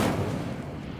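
An Incendio fire spell in Hogwarts Legacy bursts out as a sudden loud, rumbling blast that quickly fades into a roaring decay.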